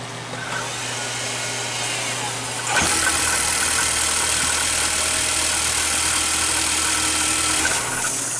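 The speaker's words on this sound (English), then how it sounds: "Could you start the vehicle up for me?" A 2017 Nissan X-Trail Hybrid, just repaired after a transmission job, starts up with a sudden jump in loudness and then settles into a steady, close idle.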